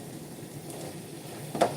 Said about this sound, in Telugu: తర్వాత ఈ చికెన్ దాంట్లో వేసేసా.